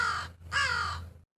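A crow lets out two loud, harsh caws in quick succession across a canyon, clear and alone with no other sound, then silence.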